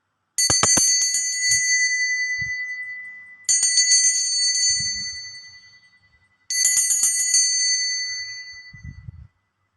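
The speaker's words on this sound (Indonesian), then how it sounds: "kita akan lanjutkan dengan hasil ramalan ditandai dengan lonceng berbunyi" A bright bell rings three times, each strike sharp and metallic with a long shimmering decay, spaced a few seconds apart, with faint knocks between.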